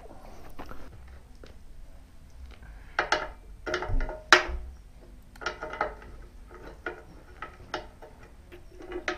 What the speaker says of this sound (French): je vais remettre les boulons dessus pour pas les perdre